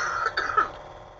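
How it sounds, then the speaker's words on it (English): A single short, muffled cough sounds close by, with a faint throaty rasp trailing off into quiet. "I had to cough."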